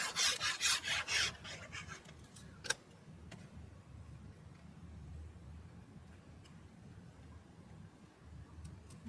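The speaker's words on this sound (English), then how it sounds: "And burnish that down" Paper is burnished down onto a New England wedding album page, a steady dry rubbing rasp after a few brisk strokes and a single sharp tap.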